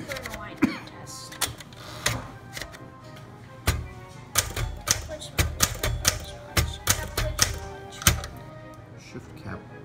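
A 1965 Smith Corona Galaxie II manual typewriter typing an alignment test: irregular bursts of sharp key strikes with bell-like type-bar clacks, close and fairly loud, with short pauses between clusters and no talking.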